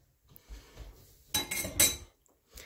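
A cover goes onto a glass jar of onions and honey: a few soft taps, then a brief cluster of clinking, scraping contacts, with a last small clink after a pause.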